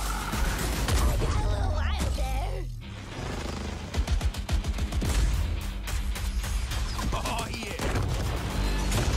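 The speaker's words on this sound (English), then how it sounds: "A lot of shooting" Gunfire from a video game trailer shown at the Game Awards 2021: dense, rapid bursts of shots crackle through loud effects and music, thinning briefly before a heavy barrage of repeated blasts.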